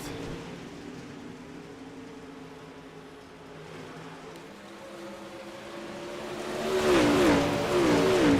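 Late model race cars running at Eldora Speedway dirt track during a Midwest Pro Late Model Series race, a steady distant engine drone that swells into a louder revving pass near the end.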